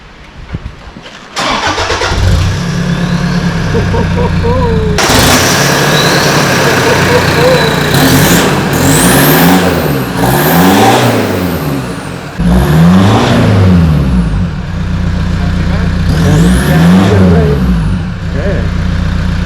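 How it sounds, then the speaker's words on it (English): A Toyota Prado 150 SUV engine with a bigger aftermarket exhaust cranks and catches cold, then idles loudly with a deep exhaust rumble, revving up and down several times; voices talk over it. "we're about to start up the engine and see what it sounds like"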